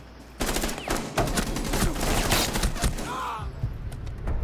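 Rapid automatic gunfire in a Call of Duty match, with dense bursts of shots rattling for several seconds followed by a few scattered single shots, while players talk over it.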